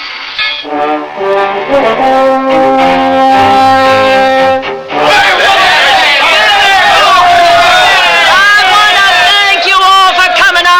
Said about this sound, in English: Would you look at that crowd?